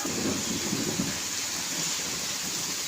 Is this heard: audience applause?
no